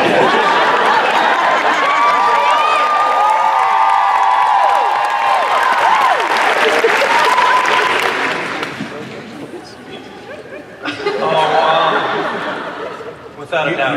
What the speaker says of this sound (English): You're clapping for death